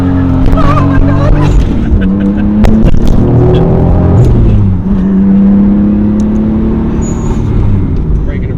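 A JDM 1993 Toyota MKIV Supra engine pulls hard through a hairpin while the rear wheels break loose, its rising engine note sweeping upward, loud and close, with a few voices talking over it.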